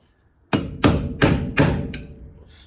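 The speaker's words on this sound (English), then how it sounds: "the old Bricky's hammer's going to have to do for now" Four loud, evenly spaced metal-on-metal strikes from a bricklayer's hammer knocking a part loose on a Nissan G60 Patrol, each sharp blow ringing briefly, with a faint tap after the last one.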